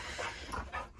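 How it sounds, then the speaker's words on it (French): American bully dogs pant and whimper somewhere behind a parked camper van, giving soft rhythmic breathy puffs with faint whines against a steady background hiss. "les chiens je sais pas ce qu'ils font là-bas derrière"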